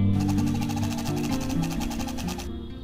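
A sewing machine runs steadily, top stitching a pouch made of clear vinyl and fabric. The needle pattern stays rapid and even and close by, then stops near the end with no talk over it.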